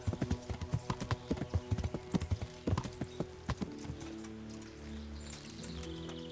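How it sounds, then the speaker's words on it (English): Horse hooves clip-clop in a steady, fairly loud rhythm during a ride in the medieval game Kingdom Come: Deliverance, the beats fading out after a few seconds into a low ambient hum. "Short horse ride away."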